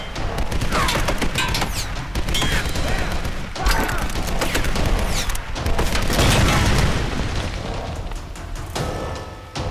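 Grenade launcher in the video game Tomb Raider (2013), firing and bursting in repeated loud, booming explosions with crackling debris and splintering wood, mixed with scattered gunfire through a chaotic, sustained firefight.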